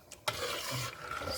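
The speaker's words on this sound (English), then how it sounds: "stir it in." Jollof rice being stirred in a pot, a sharp utensil knock followed by a soft continuous scraping and light sizzle, fairly quiet and close.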